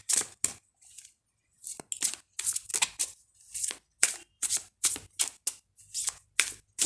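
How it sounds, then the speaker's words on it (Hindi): Tarot cards being shuffled by hand in a series of crisp, rapid riffling bursts with short pauses between them, close and fairly quiet, with no talking. "ये कार्ड्स वैसे मैंने शफल करके ही रखे हुए होते हैं, लेकिन फिर आपके सामने भी करने होते हैं ना"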